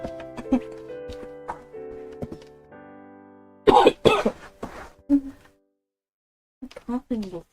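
A person coughs during a playthrough of the game Long Live The Queen: a short burst of rough coughs breaks through soft background game music, then a quieter cough follows after a pause.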